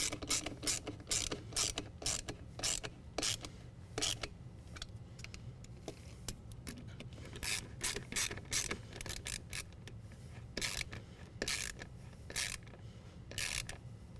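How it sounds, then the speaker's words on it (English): Band clamps on an AFE Magnum Force Stage 2 cold air intake are tightened with a ratcheting tool, giving a quick, fairly close series of clicking ratchet strokes in uneven bursts over low background noise. "Now we're going to go ahead and tighten down our band clamps with our balancing tube."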